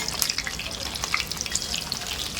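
Chicken Russian cutlets fry in a pan of hot oil, a steady close crackling sizzle with scattered sharp pops throughout, no talking over it.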